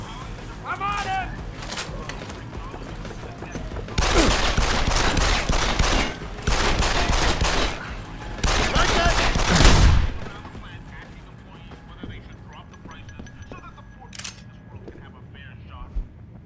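Gunfire in the video game Deus Ex: Human Revolution comes in three loud, dense bursts of shots, each lasting a second or two, with quieter game ambience between them and a few faint clicks after.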